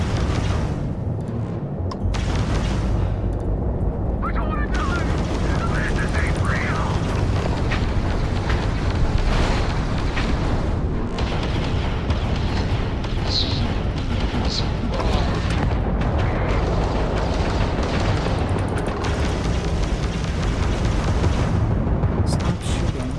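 Spaceship weapons blasting away in a Starfield space battle against outlaw ships, a dense, continuous roar of booming fire and explosions lasting throughout, loud and sustained with a voice talking over parts of it.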